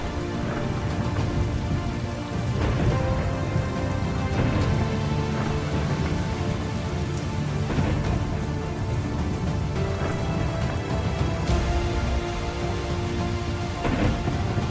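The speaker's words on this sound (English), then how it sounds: "It was about to rain." Steady rain pours across a simulated forest, with rolling thunder rumbling through several times and a dense wash of raindrops throughout, loud and continuous without any voices.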